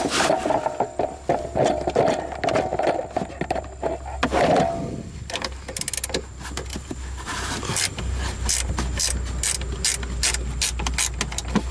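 A hand ratchet with a 13mm socket turning strut top bolts on a Dodge SRT-4, giving rapid close clicking strokes in steady runs, loud and mechanical, with rubbing and scraping between bursts and no talk.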